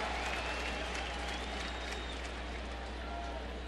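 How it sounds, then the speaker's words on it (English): Baseball fans at a ballpark give a sarcastic cheer, a dense wash of crowd applause and cheering that stays loud and steady throughout. "And you get the sarcastic cheer from our fans."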